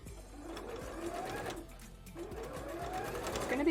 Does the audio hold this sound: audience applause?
no